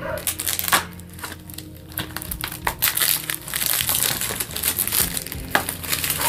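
Plastic wrapping on a King of Fighters 15 collector's edition is cut and torn open, producing dense close crinkling and crackling with intermittent louder crunches throughout.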